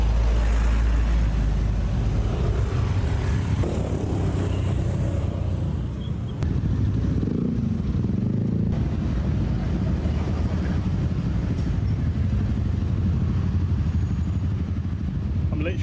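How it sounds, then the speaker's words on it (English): Busy city road traffic passes a pedestrian walking barefoot on a hot day: a continuous rumble of car and motorcycle engines, with gusts of wind buffeting the microphone throughout. "Literally in the traffic."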